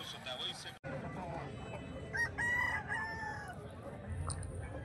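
Roosters crow and chickens cluck at a busy outdoor poultry market in Jhargram, with repeated crowing calls rising over a dense crowd murmur and people talking nearby.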